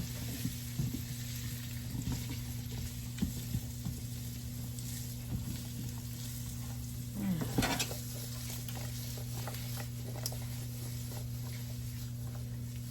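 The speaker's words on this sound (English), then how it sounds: "we're going to stir it up with this big spoon right quick." A big spoon stirring food in a pan over steady sizzling, with soft scraping and clinks throughout and one louder scrape partway through.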